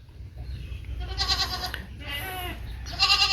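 Sheep in a pen bleat several times while eating feed, the wavering cries close and clear over a low background murmur and rustle.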